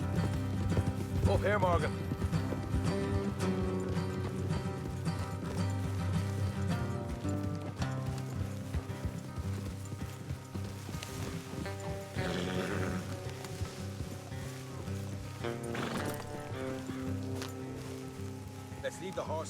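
Horses clip-clopping at speed on a road in the Western video game Red Dead Redemption 2, a steady rapid hoofbeat under a loud orchestral score, with characters briefly speaking.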